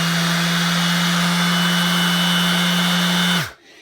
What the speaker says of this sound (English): it's a Dewalt DA sander.